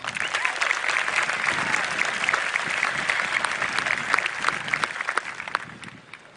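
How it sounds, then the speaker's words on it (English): Steady, dense audience applause fills an outdoor 2020 graduation ceremony at Collins Stadium, with a spread-out crowd clapping loudly for several seconds before tapering off near the end. "Let's give them a round of applause."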